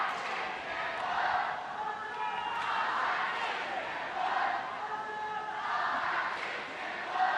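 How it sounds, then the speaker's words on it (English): Crowd at a World Games ultimate frisbee match between Germany and China chants and cheers to rally China's team, rising and falling in rhythmic waves at a distance. "Crowd here trying to rally the People's Republic of China"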